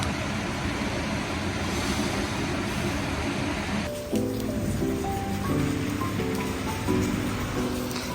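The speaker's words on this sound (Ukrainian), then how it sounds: "звуки річки, дощика" Steady broadband rush of a flowing mountain river in Zakarpattia mixed with the soft hiss of light rain, continuous and even; faint melodic tones enter partway through.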